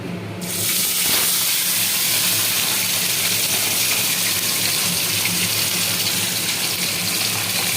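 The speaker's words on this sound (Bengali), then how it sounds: "এইভাবে একটা একটা করে সমস্ত পমফ্লেট মাছ ভেজে নেব" Pomfret fish fry in hot oil, a steady broadband sizzle that starts with a loud hiss as the fish goes in and then holds evenly, close and alone.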